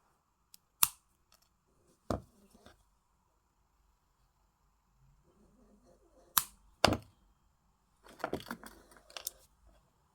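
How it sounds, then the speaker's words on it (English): Jewelry wire cutters snip short wire ends on a small beaded frame pendant, giving a handful of sharp, close metallic clicks spread apart, ending in a quick cluster of snips and handling noise. "So where's my cutters gone? So we're going to cut those off nice and short."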